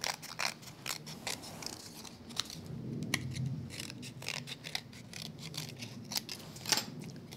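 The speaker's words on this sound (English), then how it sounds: "Come back in with my scissors and trim away the extra." Scissors trim paper at close range, crisp cutting clicks in an uneven rhythm, faint and without speech.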